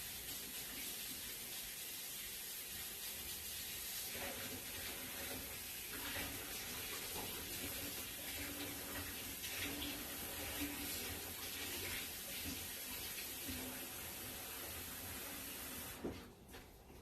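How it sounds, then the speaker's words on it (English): Running tap water splashing as a hand is washed at a sink, a steady continuous rush lasting most of the stretch before cutting off abruptly near the end. "Just going to wash off my hand for a second here."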